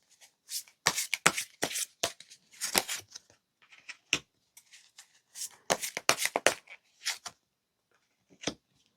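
Tarot cards are shuffled and drawn by hand, giving a series of brisk, close riffling and slapping bursts in irregular clusters with short pauses between, ending with a single card snap.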